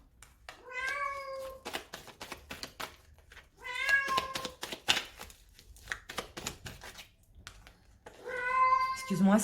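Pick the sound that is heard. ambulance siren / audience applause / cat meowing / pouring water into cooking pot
cat meowing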